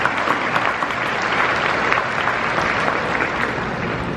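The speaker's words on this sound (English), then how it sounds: "Please, that's worth a round of applause," Steady, dense applause from a large audience at a high school graduation ceremony, continuous and even throughout with no talking.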